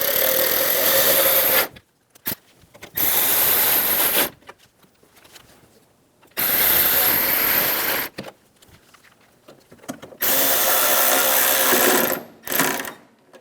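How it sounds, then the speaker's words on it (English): Screws being driven into the grille of a 1988-1999 GMC K1500 pickup with a power tool, heard as four loud bursts of whirring and ratcheting of a few seconds each, separated by short pauses. "Install the screws for the grill."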